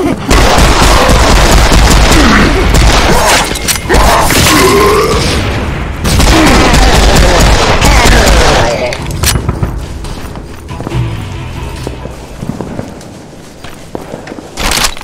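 Heavy gunfire and booming blasts from the shooter game Serious Sam 4, loud and nearly continuous through the first half, then thinning into scattered shots, with voices talking over the combat.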